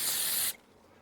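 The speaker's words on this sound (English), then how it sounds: "you're just gonna spray a bit inside." Half a second of carburettor cleaner sprayed from an aerosol can into small carburettor parts from a Suzuki, a sharp close hiss that cuts off abruptly into quiet.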